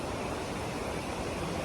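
Steady broadband rush of a strong river current flowing past a riverside path, a continuous even roar with no breaks and no voices.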